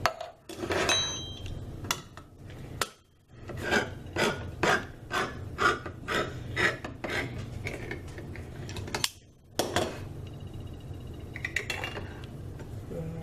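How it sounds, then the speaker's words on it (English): Cans of diced tomatoes opened and emptied into a bowl: a run of close, rhythmic metallic rasps from the can opener, broken by short pauses, with clinks and a final scraping as the contents go in. "we're going to open these cans and we're going to add it to our bowl"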